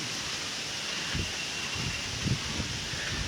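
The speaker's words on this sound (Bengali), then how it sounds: "ব্যাপক বাতাস বইতেছে" Strong gusty wind from Cyclone Remal roars steadily across an open outdoor spot in Sundarganj, Gaibandha, a broad rushing noise buffeting the microphone with occasional heavier gusts.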